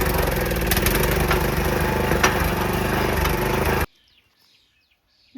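An old garden tiller with two missing blades runs loud and rough, its engine chugging and rattling steadily before cutting off abruptly into near silence.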